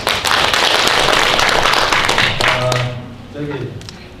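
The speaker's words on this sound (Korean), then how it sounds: "감사의 박수를 다시 한번 보내드립니다" Audience applause at a Korean healing-agriculture association launch ceremony, a dense burst of many hands clapping that fills the first two and a half seconds, then fades out as a voice begins speaking.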